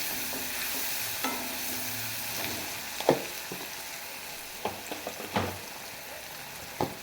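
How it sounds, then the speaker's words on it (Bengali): A spatula stirs fried pumpkin with turmeric and chili powder in a pan over a soft steady sizzle, with scattered scraping strokes and a few sharper knocks against the pan. "দিয়ে ভালো করে নেড়ে চেড়ে নেব"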